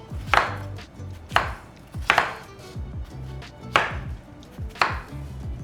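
A knife cutting through a plantain on a cutting board, five separate sharp chops spaced about a second apart, close and distinct with quiet gaps between and no speech.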